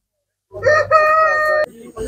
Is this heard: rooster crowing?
yes